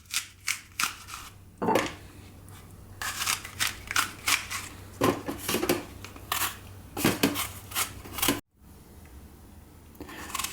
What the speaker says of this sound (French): je commence par éplucher mes 2 pommes